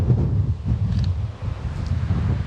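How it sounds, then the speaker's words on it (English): Wind blowing outdoors across grasses, a low rumbling buffet against the microphone that gusts unevenly throughout, with no voices. "we've got to make use of these grasses fluttering in the wind"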